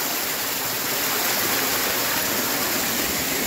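A stream swollen after a night of rain rushes past a drinking-water structure at Khardu near Dharan, a steady, loud, broadband roar of flowing water that holds constant throughout with no voices.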